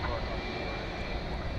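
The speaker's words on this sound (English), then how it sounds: "Always happy to see the 757." A Boeing 757 passenger jet at DFW Airport gives a steady, broadband roar that holds at even loudness throughout, with no distinct peaks, heard at a distance alongside a voice.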